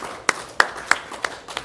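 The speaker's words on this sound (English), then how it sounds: "clap your hands if you're next to somebody beautiful" Slow, evenly spaced hand claps from an outdoor poetry slam audience in Austin, five sharp claps about a third of a second apart, close and fairly loud with no talk.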